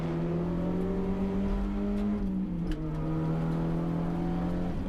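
Production touring race cars at Wakefield Park, an engine drone holding a steady pitch that dips briefly partway through, the cars passing continuously without any voices.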